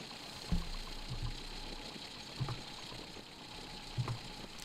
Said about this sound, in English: just as I'm giving the engine a bit of revs